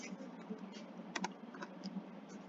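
Computer keyboard typing during floor plan drafting software work, a quick run of light, close key clicks with a brief louder cluster midway, alone without talk.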